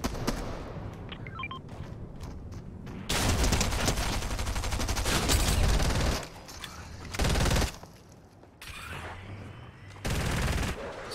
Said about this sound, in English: Another shots coming more east